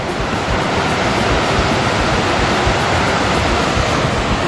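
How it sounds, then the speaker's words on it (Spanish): The Yaque river rushes loudly beneath a suspension bridge in Jarabacoa, a dense, continuous roar of fast-moving water with no voices over it. "La potencia hídrica del río Yaque."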